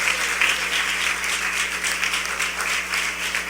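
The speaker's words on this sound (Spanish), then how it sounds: "Dele un aplauso fuerte al Señor." A church congregation applauding loudly and continuously, dense rhythmic clapping filling the room without a pause.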